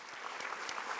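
Faint, distant applause from a crowd at a police recruit class graduation ceremony, a soft continuous patter of clapping over about a second.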